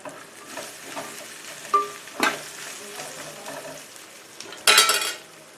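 Brinjal pieces with salt cook in a covered pan, giving a quiet, soft sizzle broken by a few sharp clinks and one louder metallic clatter near the end.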